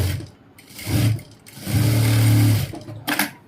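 A sewing machine stitches a trouser pocket in two short runs, a brief burst followed by a longer steady whir, separated by pauses, with no one speaking.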